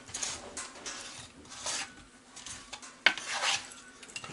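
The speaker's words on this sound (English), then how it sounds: "Kind of stir that around." Pork chops dusted with paprika and seasoning get stirred in a pan, with close metallic scrapes and clinks of a utensil against cookware coming in short irregular bursts and one sharp knock near the end.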